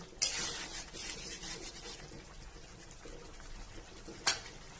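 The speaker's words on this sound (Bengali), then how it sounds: "এরপরে আবার একটু ঢাকনা তুলে নেড়ে নিচ্ছি" Prawn do-peyaza is stirred after the pot lid is lifted: a metal clank opens, then scraping and rubbing of a spoon in the pot, and a second sharp clank near the end, fairly quiet with no talking.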